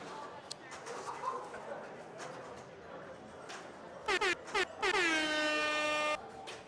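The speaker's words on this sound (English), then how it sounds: "Little air horn for that." A small air horn gives a few short blasts and then one sustained loud blast near the end, following a stretch of indoor crowd chatter at a pinball league night.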